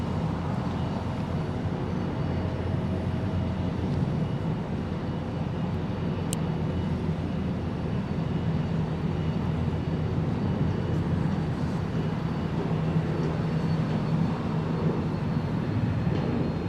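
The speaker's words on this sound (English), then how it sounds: "There's the A330 taxiing now for runway 25, right for departure." Airbus A330 taxiing for runway 25 at LAX, a steady, fairly faint low jet rumble and whine that holds evenly throughout, with no talk.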